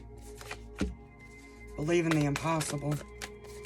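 Tarot cards being shuffled in quick riffling bursts, close and soft, with a person speaking over and between the shuffles.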